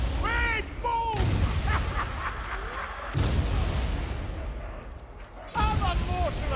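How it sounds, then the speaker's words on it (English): A thrown bomb exploding in Warhammer Vermintide, two loud booms about two seconds apart amid game combat noise, with voices shouting and talking throughout. "I'm throwing a bomb!"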